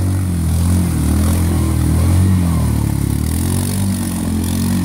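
A Yamaha Grizzly 550 ATV labours while ditching a power line trench by a hog pen, its engine giving a loud, close, continuous low rumble that strains under load with slight shifts in pitch.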